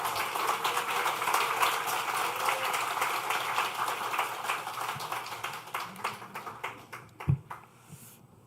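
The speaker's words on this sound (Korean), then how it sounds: "박수로 한번 찬양해 주시겠습니다." Church congregation applauding a lay elder's first sermon, dense steady clapping that thins into scattered claps and fades out near the end, followed by a single sharp knock.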